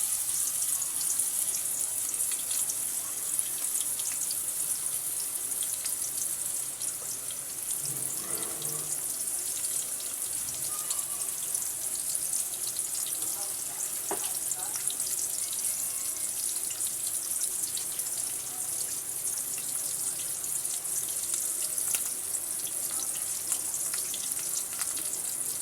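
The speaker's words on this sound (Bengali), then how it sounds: "আমার তেলটা গরম হয়ে গেছে। এবারে আমি মাছগুলোকে দিয়ে দেব।" Rohu fish belly pieces frying in hot oil in a wok, a steady, even hiss of sizzling oil sustained throughout with a few faint clatters, no voices.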